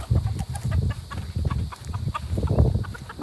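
Chicken clucking up close, a steady run of short, loud clucks with no talk over them.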